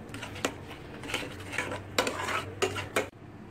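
Masala for matar paneer is stirred and fried in a pan: a spoon scrapes and clinks against the metal in repeated strokes over a soft, steady sizzle, close up with no talking.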